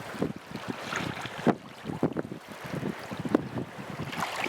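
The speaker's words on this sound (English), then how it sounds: "You may be actually able to hear the wind in the microphone on the camera, probably." Wind buffets a camera microphone on a kayak in swells and whitecaps, producing irregular low rumbling gusts and thumps with a faint wash of water underneath, moderately quiet and uneven.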